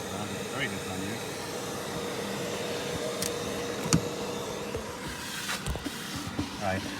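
A vacuum runs steadily to collect a swarm of bees during a roof rescue, a continuous droning hum under speech and a few sharp knocks and bumps.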